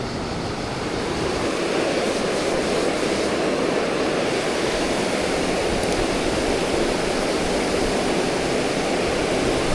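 Close, steady roar of a waterfall where trout are fished with spoon lures, broadband rushing water filling the whole clip at a constant level with no voices.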